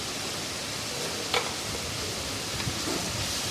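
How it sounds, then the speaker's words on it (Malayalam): Sliced onion sautés in a pan with salt and turmeric for a South Indian style pasta, giving a steady soft sizzle with a few faint stirring scrapes and no talking. "ഈ സവോള നമുക്ക് നന്നായിട്ടൊന്ന് വഴറ്റിയെടുക്കണം."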